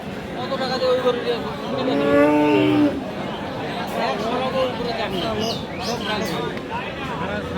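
A large cow at Aftabganj cattle market lets out one long, loud moo close by, then people talk amid the surrounding crowd chatter.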